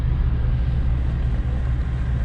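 A Toyota Land Cruiser 79 Series idling along in second gear on a slow outback trip with a busted axle bearing, a steady low engine rumble and drone heard from inside the cab, even and unbroken.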